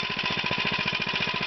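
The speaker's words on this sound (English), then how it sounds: "I'm not sure how loud the engine was for the camera" A mini-bike's small engine runs steadily, a rapid, even putter with a buzzy rasp, close and continuous without voices.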